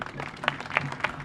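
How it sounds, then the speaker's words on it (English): Brief applause from a ribbon-cutting crowd at a mixed-use development, a scattered patter of claps with a few sharper hand strikes, fairly faint. "a round of applause to them."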